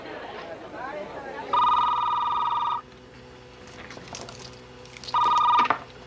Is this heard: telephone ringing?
yes